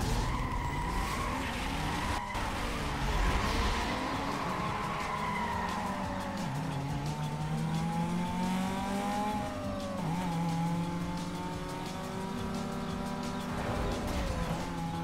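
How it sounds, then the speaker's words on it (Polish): Racing car fitted with a racing engine kit in the video game Need for Speed: Most Wanted (2005), engine revving and climbing through gears with tires skidding and squealing, loud and continuous. "domontowałem silnik pakiet wyścigowy, więc powinno być teraz trochę w porządku. Troszkę powinien już szybciej jechać."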